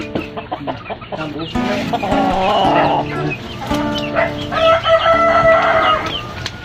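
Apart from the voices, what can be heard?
Rhode Island Red crossbreed native chicken clucking and crowing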